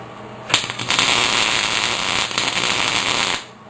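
Tack welding on a steel cattle catch frame gives a loud, steady crackling buzz that starts abruptly and runs for about three seconds before cutting off, with no talking.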